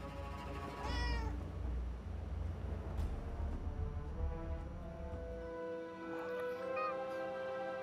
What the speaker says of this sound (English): Hey, nice kitty.